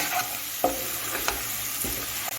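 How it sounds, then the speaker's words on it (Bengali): Spices and salt sautéing in a hot pan for begun bharta, a continuous close sizzle broken by a few spatula scrapes as the mixture is stirred. "এখন আমি এগুলো সব কিছু ভালো করে একটু কষিয়ে নিচ্ছি"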